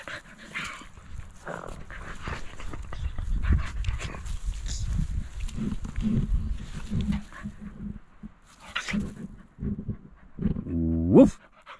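A dog in the woods pants and growls in low, rough bursts through most of the stretch, close by, with a short sharper whimper near the end; no speech is heard.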